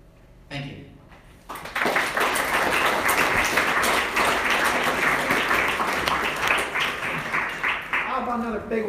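An audience at a World War commemoration event applauds a panel, sustained clapping from a crowd that swells after a brief pause and holds steady, fairly loud, then tapers slightly near the end.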